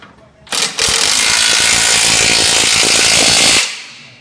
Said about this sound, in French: le gomme ou le ratchet. Il faut serrer suffisamment fort